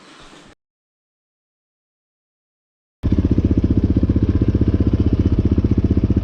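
A Yamaha Raptor 700R sport quad engine runs loud and close with a steady, fast, throbbing pulse that starts abruptly after a stretch of silence, preceded by a brief faint noise.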